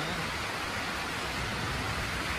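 Heavy rain pours down in a dense, even, loud hiss during a storm at a flooding home in Vietnam, with no distinct thunderclap.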